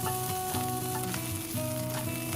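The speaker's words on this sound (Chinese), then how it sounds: "把刚才炒过的肉末倒回锅里" Minced meat tossed back into a wok with spring onion and diced shiitake mushroom sizzles and crackles steadily throughout, with a few scraping stirs close up and no talking.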